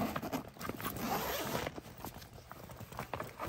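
A diaper bag's zipper is pulled open in several quick raspy strokes, close by and fairly quiet, with light rustling of fabric between them.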